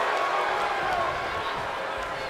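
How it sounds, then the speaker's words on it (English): Arena crowd roaring in the WWE 2K20 wrestling game during an NXT women's match, a dense steady wash of cheering with commentary talk over it. "Can barely hear myself think over this crowd here in Pontiac"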